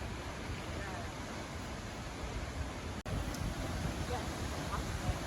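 Waterfall in Iceland, approached along a path that leads behind the falling water; a steady, loud broadband roar fills the whole stretch, with one abrupt momentary dropout partway through.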